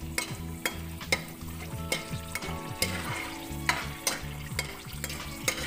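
Wadiyan frying in a pan with spices and red tomatoes, a continuous sizzle punctuated by regular clanking stirs of a spoon, with soft tonal music running underneath.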